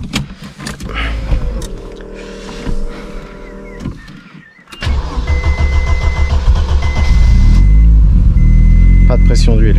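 An old car, a worn-out banger, is cranked and its engine catches and runs loudly, the starter and idle filling the second half after a quieter stretch, with people talking nearby.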